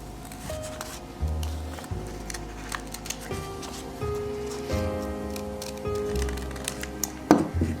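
Scissors snip around a small paper heart template for a Valentine cake decoration, a series of quiet close cuts with soft paper rustling and crinkling between them, no talk.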